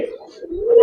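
Giribaz pigeons at a farm giving a single close, loud, sustained low coo that rises in strength toward the end.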